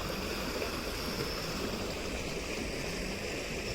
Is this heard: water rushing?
yes